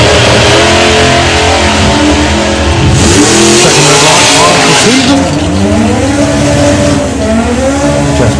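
A dragster launches and accelerates hard at a drag racing event, its engine a loud, continuous roar that rises in pitch and sweeps through several gear-like shifts.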